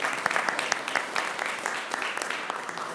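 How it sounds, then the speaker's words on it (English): Applause from the audience at a transit board of directors meeting, a steady patter of many hands clapping for three seconds at moderate distance. "Let's give him a round of applause."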